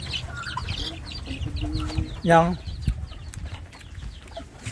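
Native chickens cluck softly in the background, with one louder squawk partway through, while a person speaks quietly nearby in Filipino.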